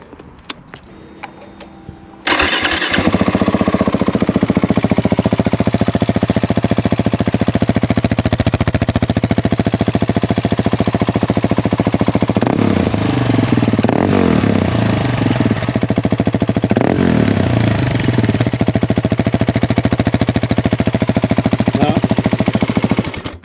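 Husqvarna 701 Enduro single-cylinder motorcycle with a Remus exhaust fires up after a few clicks and settles into a loud, close, rapid-thumping idle, with brief revs blipping partway through.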